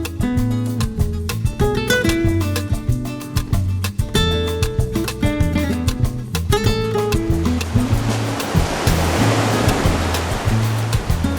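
Pacific Ocean surf at Acapulco, Mexico: a broad rushing wash of breaking waves that swells up in the final seconds, following a stretch dominated by rhythmic music.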